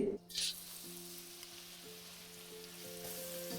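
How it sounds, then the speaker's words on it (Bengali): Chopped garlic sizzling in hot oil in a wok, a faint steady frying hiss after a brief knock at the start, with a low hum underneath. "তেলটি একটু গরম হলে এখানে দিয়ে দিন 2 চা চামচ রসুন কুচি"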